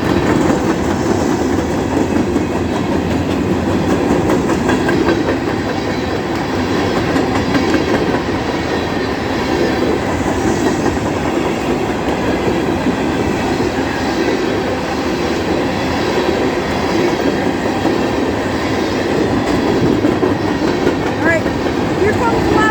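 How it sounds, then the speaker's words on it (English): Bessemer & Lake Erie freight train rolling past at night, a steady loud rumble of railcars with rhythmic wheel clatter and occasional squeal, continuous and close throughout. "Here comes the last locomotive."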